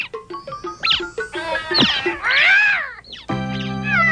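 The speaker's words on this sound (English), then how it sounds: "Toxie, my kitty got stuck in the tree" Cartoon cat stuck up a tree, several harmonic meows and drawn-out yowls over light background music, loud and close.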